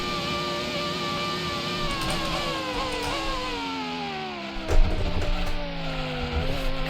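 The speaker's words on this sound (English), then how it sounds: "Car rattles over the curbs." Race car in the Automobilista racing game, held at a high, buzzing engine pitch that sags and climbs with shifts, with a sharp thump and rattle as it bounces over curbs partway through.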